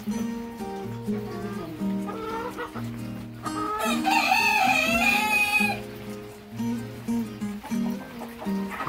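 Laying hens cluck and squawk in a henhouse, close and continuous, with one rooster crowing loudly partway through.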